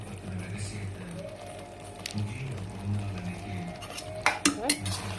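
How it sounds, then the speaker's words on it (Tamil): Curd being mixed into rice with a spoon: soft, wet squishing and stirring, then a quick run of sharp spoon clinks against the dish near the end, all beneath a person talking. "இதுக்கப்புறமா நம்ம இதில் கொஞ்சமாக தயிர் மிக்ஸ் பண்ணிக்கலாம்"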